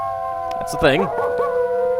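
Dogs howl in the video game Quest for Glory IV, a wavering, rising-and-falling howl over a steady game music drone, with a voice briefly speaking at the same time.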